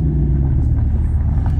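A car's exhaust at an outdoor car show gives a steady, loud, deep low rumble throughout, with no talk over it.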